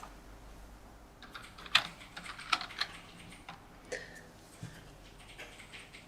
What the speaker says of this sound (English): I can hear Mr. Bones typing frantically